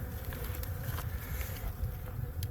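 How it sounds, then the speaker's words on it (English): Steady, soft buzzing of bees swarming around scratch grains outdoors at a chicken coop, with a faint continuous insect drone and light patter, no talk. "on a bee-related note, bees love scratch grains"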